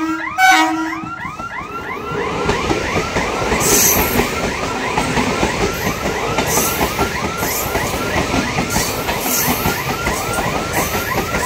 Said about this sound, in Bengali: এই যে বন্ধুরা ট্রেন চলে আসলো,